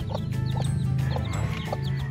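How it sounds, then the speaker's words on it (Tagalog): A Leghorn rooster clucking in a quick, steady series of throaty clucks, close by, with no talking. "Ayan, tandang na yung Leghorn natin."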